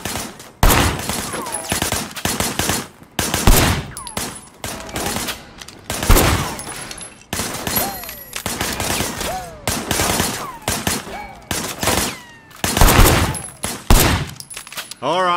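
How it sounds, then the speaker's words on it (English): Sustained gunfire in the video game Sleeping Dogs, with repeated loud bursts of automatic and single shots fired from cover behind a barricade. The shots come in irregular volleys with brief gaps and ricochet-like pings between them. "I want you to put some bullets in a few things."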